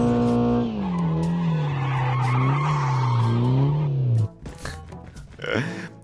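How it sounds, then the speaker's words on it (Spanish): A roaring car engine in Call of Duty Mobile holds a steady drone with shifting pitch and tire noise, then cuts off into scattered clatter and a brief exclamation. "Este carro suena brutal"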